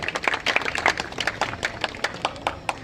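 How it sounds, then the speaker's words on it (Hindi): A small crowd claps in welcome at an election rally in a residential colony, the applause coming as a steady patter of sharp individual claps, fairly close and without talk. "जोरदार स्वागत तालियां बजा करके एक बार करेंगे सभी सब"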